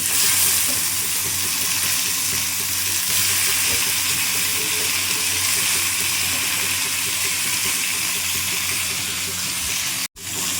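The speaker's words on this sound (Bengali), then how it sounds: "আস্তে আস্তে সমস্ত সবজিগুলো দিতে থাকি" Vegetables sizzle and fry steadily in a pan for a Bengali chutney, a continuous broadband hiss close by with faint background voice, cut by a brief dropout near the end.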